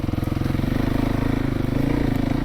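Kawasaki KLX300 dirt bike engine running steadily on a trail ride while clearing trails, a close, continuous buzzing drone with a throbbing rhythm and no talk over it.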